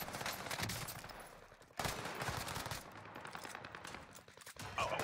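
Rapid automatic fire from an H4 Blixen in Warzone, dense continuous rattling shots in two long bursts with a short gap, loud and close.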